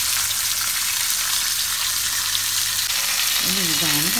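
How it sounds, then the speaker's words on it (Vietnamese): Pieces of red tilapia fish frying in hot oil in a pan, a loud, dense, continuous sizzle filling the whole span, with a brief voice-like warble rising near the end. "sau đó mình sẽ cho cá mình rán."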